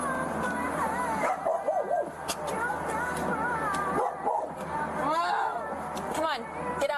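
A dog barks and yips in short bursts beside a car, mixed with steady vehicle hum and overlapping voices of people speaking throughout.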